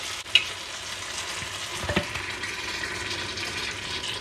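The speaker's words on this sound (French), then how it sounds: "Je vais pouvoir déglacer avec mon lait de coco" Caramelized onions deglazed with coconut milk in a hot pot, a sizzling splash as the liquid goes in, followed by a steady bubbling hiss and a few stirring scrapes.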